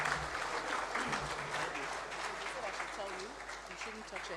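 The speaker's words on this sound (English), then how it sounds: "let's continue with that applause as we bring him to the stage at this time" Audience applause at the 2022 Zenith Bank International Trade Seminar, a steady dense crowd clapping that holds for several seconds with murmured voices mixed in, as an honored guest is brought to the stage.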